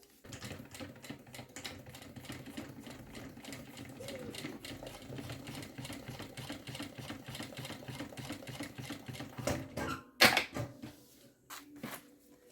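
Sewing machine stitching through a bag's zipper and lining, a steady fast mechanical chatter running for several seconds at close range, stopping near the end with a few clicks and handling knocks.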